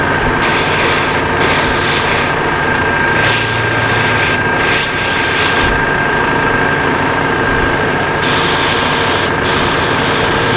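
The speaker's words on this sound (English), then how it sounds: "I'm still learning this airbrush gun," Airbrush gun spraying paint onto masked-off plaques, a steady close hiss running continuously with brief dips and pauses in the spray, over a low rumbling background.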